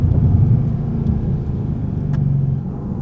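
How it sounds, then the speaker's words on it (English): 2025 Bentley Continental GT engine downshifting on approach to a junction, a steady deep low rumble that dips and rises through the gear changes, heard from inside the car with no talk. "Downshifting, coming up to a junction, downshifting again."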